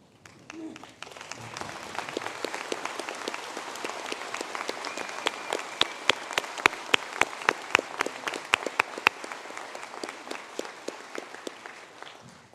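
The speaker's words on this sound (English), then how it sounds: "Could the last group please stand so we can give a round of applause?" Audience applause for graduates at an ATU Sligo conferring ceremony, a broad wash of clapping from a large hall with individual sharp claps standing out, steady for about twelve seconds before tapering at the end.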